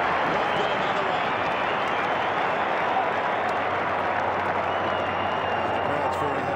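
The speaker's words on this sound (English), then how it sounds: "And the crowd's very happy." A large football crowd at the 1996 AFL preliminary final between North Melbourne and Brisbane roars and applauds after a goal, a dense, steady wash of cheering and clapping with a commentator talking over it.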